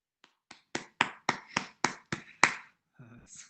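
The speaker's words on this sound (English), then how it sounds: "Quiet clapping here" A single person claps quietly after an online academic talk: about nine sharp, separate claps at a steady pace, fairly close and soft, followed by a brief murmur of voice.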